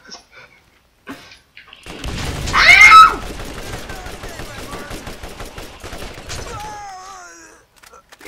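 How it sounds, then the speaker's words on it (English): Gunfire in the Borderlands video game rattles in a dense burst of rapid shots with mechanical clatter that rises and then trails off, loud and close, while a player talks intermittently. "They're still shooting."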